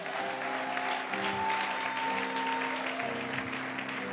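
Church congregation applauding at an Easter service, steady dense clapping filling the room throughout, loud and close with no speech over it.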